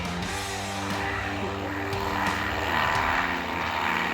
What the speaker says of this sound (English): you even gotta watch out for airplanes